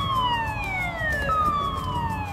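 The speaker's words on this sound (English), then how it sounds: "the siren sounded, telling us that the waters were about to be released from the dam" A warning siren sounds before water is released from a dam on the South Holston River, a strong wailing tone sliding downward and sustained, loud against steady outdoor background noise.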